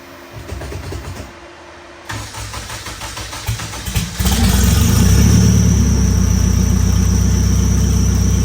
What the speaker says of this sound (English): Now I'm gonna start the car, let it warm up, put it in gear,